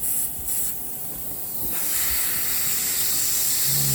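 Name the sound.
airbrush spraying paint on a miniature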